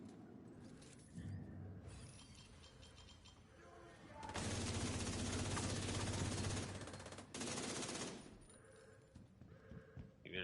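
An enemy turret firing in The Division 2 video game, a loud sustained burst of rapid automatic fire lasting several seconds, then a shorter second burst, amid quieter game noise.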